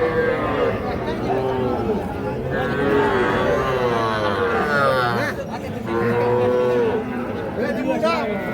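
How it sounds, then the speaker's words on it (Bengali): A young bull calf moos repeatedly at a busy cattle market, its long, loud calls rising over steady crowd chatter and nearby talking. "ষাঁড় বাচ্চা।"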